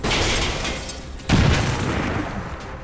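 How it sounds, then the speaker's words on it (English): A grenade explosion in the video game XCOM 2, a sharp deep boom that cuts in abruptly after a second of rumbling noise, then decays into a roaring tail, with no talking. "Throwing grenade! I'm going to frag out"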